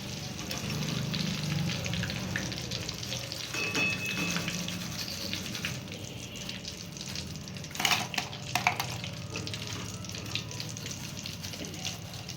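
Slices of raw banana crackle and bubble as they fry in hot oil. A dense, continuous sizzle sits close to the listener, with a few sharper clinks of a utensil partway through and no voice over it.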